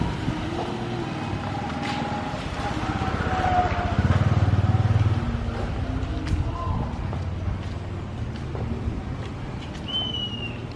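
Scooters pass along a street in Cambodia, engine hum swelling and fading as they go by with wind noise and scattered background voices.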